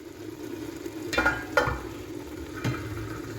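Oil frying in a pot with pondu (cassava leaves), a soft steady sizzle punctuated by a few sharp stirring clatters, close by with no talk.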